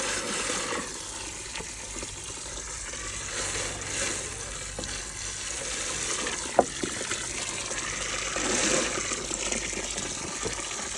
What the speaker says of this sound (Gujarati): જુઓ પાણી કેટલા ફોર્સથી આવે છે